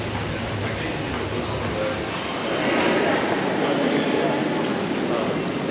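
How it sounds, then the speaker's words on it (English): A train pulls into a station platform in the UK with a steady loud rumble and a high thin wheel squeal, heavy rain and the station's bustle around it, no talk. "The next train to arrive at platform 3A."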